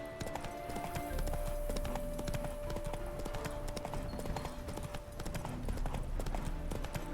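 Geralt's horse Roach in The Witcher 3: Hearts of Stone, her hooves clip-clopping in a steady, close, rhythmic trot with no pauses.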